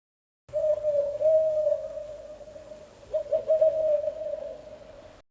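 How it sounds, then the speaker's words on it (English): An owl gives a steady, sustained whistled call, then a second wavering stretch, clear and fairly close with no talking. "Owl."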